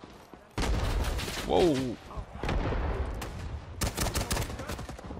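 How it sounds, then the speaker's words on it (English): Rifle fire in the shooter game Rising Storm 2 cracks out in sharp, loud bursts and volleys, mixed with a brief whooshing sweep and the distant rumble of battle, as a voice briefly exclaims. "Let's see what this rifle can do."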